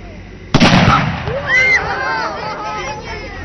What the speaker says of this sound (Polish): Będzie tam taki ładunek, jak ta petarda.